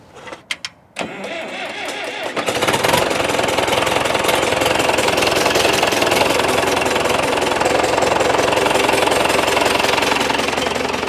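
A Case 830 tractor engine cranks in a few short bursts, then catches and settles into a loud, steady, rough-running clatter that carries on to the end, with no talking.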